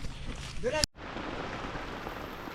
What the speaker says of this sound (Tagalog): inabot pa po tayo ng ulan